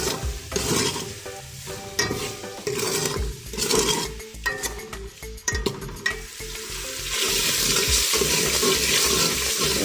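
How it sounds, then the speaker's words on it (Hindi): Chopped tomatoes and green chillies frying in a pan for a dhaba-style mash and chana dal, loud continuous sizzling with repeated stirring and scraping of the spoon, no voices. "इसमें शामिल करेंगे और इसको अच्छे से फ्राई करेंगे यहाँ तक कि टमाटर हमारे सॉफ्ट हो जाए"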